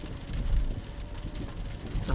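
Steady rain falls on a rainy night, a dense continuous hiss with soft low rumbles, moderately loud and unbroken throughout.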